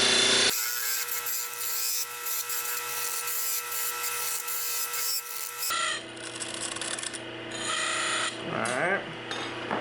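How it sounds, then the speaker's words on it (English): A wood lathe with a parting tool cutting into a spinning wooden workpiece, giving a steady close rasping scrape that holds through most of the stretch before the tone shifts toward the end. "I'm just going to run our parting tool at our line until we get our 5/8 of an inch distance"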